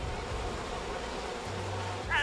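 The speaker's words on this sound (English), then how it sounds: "or these bees are gonna kill me." Swarming bees buzz in the We Happy Few video game, a low steady droning hum that fills the short clip at moderate level, with a brighter whine rising near the end.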